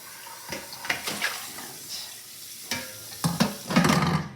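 Wet stirring and sloshing as cottage cheese curds are broken up in a pot of cold water, with several soft scraping strokes and splashes building toward the end.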